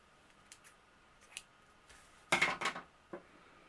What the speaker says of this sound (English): you just need to cut your yarn